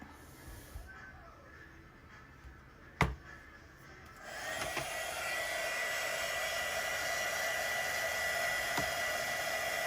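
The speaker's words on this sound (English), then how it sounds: "Just hitting it with a heat gun so I can get that center a little bit more dry" A heat gun switches on after a few quiet moments and blows a steady, hissing roar of hot air over an acrylic paint pour, with a sharp knock just before it starts.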